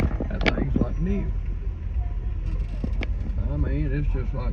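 Inside a 1967 car on a squad car tour of Mt Airy, North Carolina, a steady low engine and road rumble runs continuously beneath people talking.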